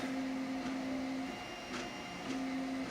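3D printer steadily printing small scale model parts, a constant tonal whine of stepper motors with brief pauses and a few soft clicks as the head changes direction, fairly quiet and close.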